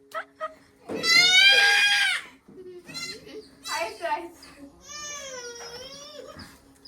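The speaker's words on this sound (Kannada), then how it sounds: "ಏನಿದು ಮೇಕೆ ಮಿಯಾ ಅಂತ ಇದೆ" A goat in a village lets out three long, wavering bleats, the first loud and drawn out and the others following after short pauses, against a quiet background.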